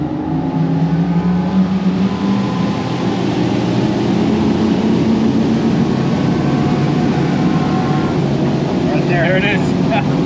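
Quad Mercury 600HP V12 Verado outboards drive a Formula 500 SSC boat at speed, a loud, steady engine drone layered with rushing wind and water that holds unbroken throughout.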